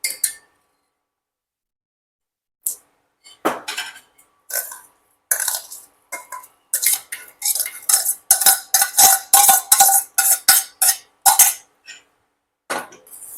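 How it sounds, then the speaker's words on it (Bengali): A spoon stirs crumbled chhena into thickened, reduced milk in a pan for payesh, making irregular scraping and clinking strokes against the metal that start sparse and grow into a quick, steady run of close, fairly loud scrapes. "এরপর ভালো করে এটাকে নাড়াবো যেন দলা পাকিয়ে না যায়।"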